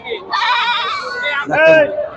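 A large castrated goat bleats loudly close by at a Qurbani livestock market, a couple of wavering cries in quick succession, with voices mixed in.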